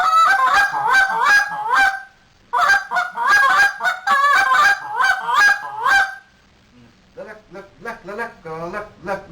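A vocal beatbox contest sequence of double, low and high clucks mixed with sung syllables and a moan, voiced to imitate fowl, delivered close and loud in rapid rhythmic bursts with brief pauses between phrases.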